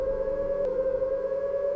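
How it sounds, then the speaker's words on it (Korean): A long, low civil defense siren from a 1950s US monthly test wails steadily at one sustained pitch, loud and unbroken throughout, with no speech over it. "길고 낮은 끝없이 이어지는 사이렌"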